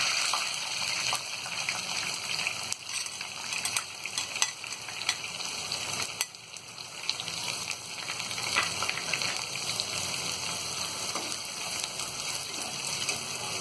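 Onions fry in a hot pan with curry leaves for a dry aloo gobhi, a continuous bright sizzle with scattered crackles and occasional stirring scrapes, close and steady.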